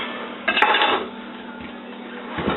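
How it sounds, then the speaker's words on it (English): A knife cuts a head of cabbage in half on a board, giving a brief crunchy crack followed by a softer knock against the surface and a faint later tap. "let's chop this head of cabbage in half"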